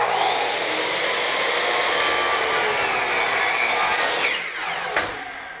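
Powered saw cutting wood trim, a loud continuous whining roar of the running blade through the cut, steady throughout, then easing slightly with a couple of sharp knocks near the end.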